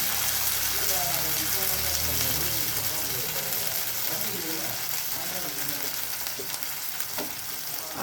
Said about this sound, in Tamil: அந்த புளியை தண்ணியை இப்போ ஊற்றலாம்